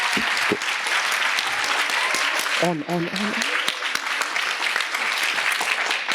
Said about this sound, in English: Give us your loudest round of applause that you can.